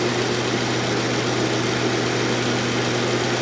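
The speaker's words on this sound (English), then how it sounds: "Engine is nice and quiet." An Infiniti G37xS engine idles with a steady, low drone, an even constant hum and faint vibration, close by, with no voices.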